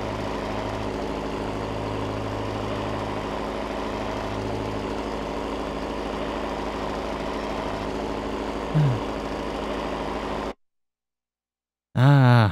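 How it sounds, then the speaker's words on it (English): International tractor engine in Farming Simulator 17, a steady loud low drone with a rough idle throb for about ten seconds, then an abrupt cutout to silence before a brief loud burst at the end. "This is definitely one rather noisy tractor here, this International."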